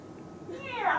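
A person imitates a cat meowing in an English speech workshop, giving one short rising, drawn-out meow at close range.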